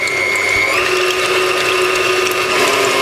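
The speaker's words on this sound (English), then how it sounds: "So now pop the bowl on the mixer and start mixing at a medium speed and turn it on at the power point" Stand mixer whirring steadily at medium speed as pavlova mixture is beaten, a constant close mechanical hum with a slight rattling whine and no voices.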